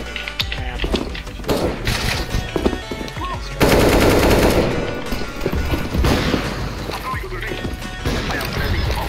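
Rapid automatic gunfire in a Counter-Strike: Global Offensive competitive match, loud bursts of shots with a stretch of dense, sustained firing through the middle, with players talking over it.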